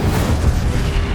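Fire spell Incendio cast in Hogwarts Legacy, a loud, dense low-heavy whoosh and boom filling the whole short burst with no pause.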